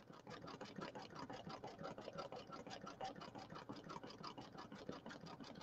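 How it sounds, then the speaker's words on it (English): An embroidery machine runs a satin stitch in a fast, steady rhythm of rapid needle strokes, quiet and mechanical, continuing unbroken without voices. "So we're doing some of the satin stitching now."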